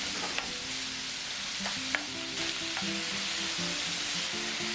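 Julienned radish stir-frying in perilla oil over medium heat, a steady dense sizzle with occasional light crackles and pops from the pan, close and continuous, with no voices.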